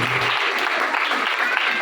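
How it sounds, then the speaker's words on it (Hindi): A church congregation at a sermon claps for Jesus in steady, dense applause that fills the whole stretch, close and loud, with a voice briefly heard at the start. "तालियां यीशु के लिए।"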